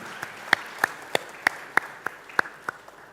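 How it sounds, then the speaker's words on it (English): At a virtual university forum, scattered individual claps ring out one after another at an uneven beat, about ten sharp hand-claps in a quiet room rather than a full crowd. "I think we deserve to applaud these two presenters"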